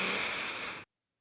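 A single steady, breathy inhalation drawn close to the mic for under a second, airy and hissing, then sudden silence with a faint click near the end.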